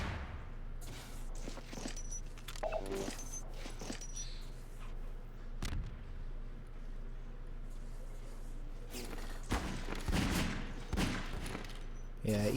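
Gunfire in a 2v2 shooter match comes in scattered bursts along with footstep sounds, moderately loud, with a cluster of shots near the end and a commentator's voice at times.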